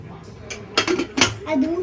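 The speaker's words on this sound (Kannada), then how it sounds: "ಇವಾಗ ಕುಕ್ಕರ್ ಲಿಡ್ನ ಮುಚ್ತೀನಿ" Metal pressure cooker lid clanking shut in a home kitchen, a few sharp clinks and scrapes over about two seconds, close and fairly loud, with quiet background hum.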